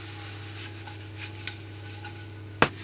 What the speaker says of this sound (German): Und jetzt müsst ihr sie nur noch von allen Seiten schön braun anbraten.